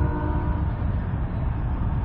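A long freight train pulls out of a rail yard with a loud, steady low rumble and grinding rolling noise, heard close and continuous throughout.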